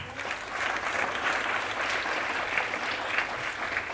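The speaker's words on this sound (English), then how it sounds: "Can I have a huge round of applause?" An audience at an International Dance Day celebration applauds in a steady, dense wash of clapping that holds at an even level for several seconds.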